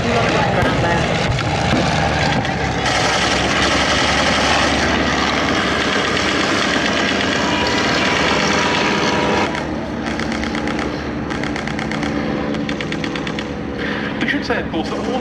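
Replica First World War fighters, some full size and some 7/8-scale SE-5As with modern engines, fly at the Duxford summer airshow, their propeller engines droning loudly and continuously with shifting pitch as they pass.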